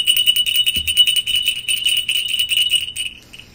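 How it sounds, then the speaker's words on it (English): A small bell rings repeatedly in quick, steady jingling strokes for about three seconds, fairly close and clear, with a soft thump early on and no talking. "you can ring your bell if you have it."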